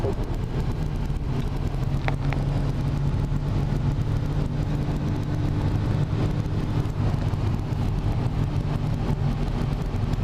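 A 300-horsepower Peugeot 308 GTi pulls in fifth gear, giving a steady, moderate engine drone blended with road and wind noise heard from inside the cabin, with a couple of faint clicks.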